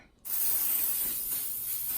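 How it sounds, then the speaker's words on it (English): Oil sheen hair spray is sprayed from an aerosol can onto a child's hair in one steady, close hiss lasting nearly two seconds after a brief quiet start. "we're going to spray some oil sheen in her hair"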